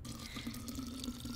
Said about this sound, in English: Filling up our canteen.